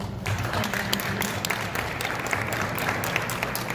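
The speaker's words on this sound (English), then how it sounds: "another round of applause" Audience applause at a Dominican Independence celebration in Queens, New York, a crowd clapping steadily with sharp individual claps standing out and faint voices mixed underneath.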